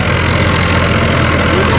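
HMT tractor engine running steadily while pulling a 7-foot Punni super seeder, a loud continuous diesel drone with no pauses throughout.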